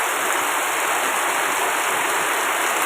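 Sudden heavy rain pouring down on a Tuesday afternoon, a dense, steady roar of falling water that stays loud and even throughout, with no voices.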